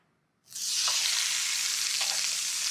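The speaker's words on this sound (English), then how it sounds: "That sizzle is a good sound." A loud, steady sizzle of skin-side-down chicken hitting a hot grill pan, starting abruptly after a brief silence and holding a continuous crackling hiss.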